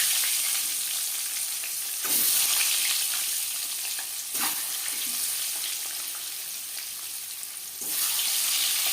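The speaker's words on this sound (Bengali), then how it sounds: "ডিম ভাজবো মিডিয়াম ফ্লেমে।" Eggs with salt and turmeric fry in a pan over a medium gas flame for egg biryani, giving a steady close sizzle that swells briefly a few times as they are stirred.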